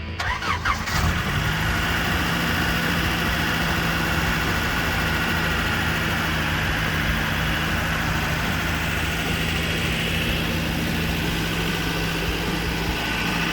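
A Toyota truck engine with no muffler cranks and catches, then runs on in a steady, loud, rough drone close by, with no talking.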